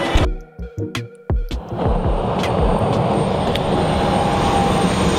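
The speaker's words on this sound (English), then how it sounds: "So I'm on the runway now, about to board the first plane to Paris." An airplane on an airport runway, opening with a few sharp knocks and clunks before a steady, loud engine roar takes over and holds throughout.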